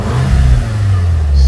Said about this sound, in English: misfire on number 3 every time I rev it